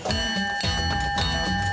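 A train engine's bell rings with a steady repeating clang, bright sustained tones layered over a low engine rumble, close and fairly loud, without any speech.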